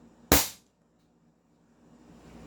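A gas-powered airsoft pistol, run on green gas with 0.20 g BBs, fires one sharp, loud crack that decays quickly into quiet room tone.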